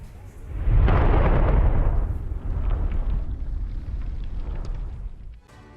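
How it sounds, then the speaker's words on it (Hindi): A large blast hits a Hezbollah post after an Israeli airstrike: a loud, deep rumbling roar swells within a second and rolls on for several seconds before trailing off. "ये देखिए आप, आईडीएफ के हमले के बाद पोस्ट में एक बड़ा धमाका होता है।"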